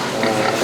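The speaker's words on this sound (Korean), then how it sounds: "돼지들이 계속 기둥이 갖다 대고 계속 흔들어가지고" Pigs in a pen on a pig farm, where the stall posts have been damaged, give a loud, dense burst of harsh grunting and squealing lasting under a second.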